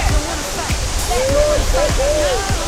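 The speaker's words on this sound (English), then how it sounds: "My first time at a waterfall." A waterfall roars as a steady, loud wash of rushing water close by, and a voice briefly calls out over it.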